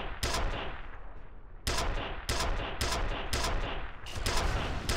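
Gunfire from the video game F.E.A.R.: a rapid series of loud, sharp shots in several bursts over about five seconds, the reports running close together with brief gaps.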